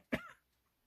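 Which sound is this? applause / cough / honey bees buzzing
cough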